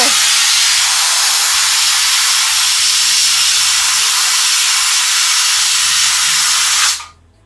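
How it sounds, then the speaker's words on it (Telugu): A high-pressure steam cleaning machine for jewellery blasts a continuous, loud, close hiss of steam with a faint low mechanical chugging beneath, stopping abruptly near the end. "ఈ స్టీమ్ మిషన్ హై ప్రెషర్, ఆ ప్రెషర్ చూసారు ఎంత ఆవిరి అనమాట"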